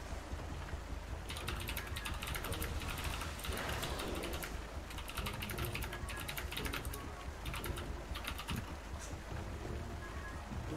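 Rapid keyboard typing, with dense, continuous clicking and clattering keystrokes close by, steady throughout with no speech.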